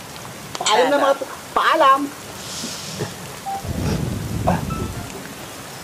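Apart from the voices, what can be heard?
heavy rain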